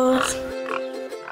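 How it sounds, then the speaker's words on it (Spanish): A pig on a farm plot gives a short, nasal oink, close and fairly faint, lasting barely over a second. "Por ejemplo, chanchos"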